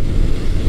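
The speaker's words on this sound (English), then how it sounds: "It's got a nice exhaust note," Stock exhaust of a 1980 Honda CB900C motorcycle idling close by, a brief, steady low burble with an even pulsing throb.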